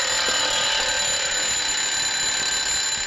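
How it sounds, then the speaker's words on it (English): An alarm clock rings inside a closed coffin, a continuous, loud, shrill metallic ringing that holds steady for the whole stretch with no voices. "That was Miss Sister Bridgie's last wish, to be buried with her alarm clock"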